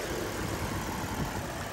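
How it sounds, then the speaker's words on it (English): A 2023 Lexus IS 500 F Sport's 5-liter V8 idles with a low, steady, throaty rumble, close by and fairly quiet, with no voices. "So under the hood, 5-liter V8 producing 471 horsepower."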